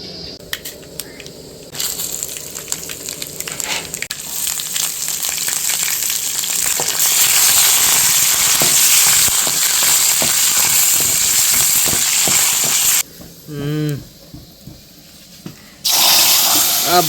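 Spices for tempering sizzle in hot oil for a chicken leg-piece tomato rasam, a loud steady hiss with some clatter that breaks off briefly near the end before returning.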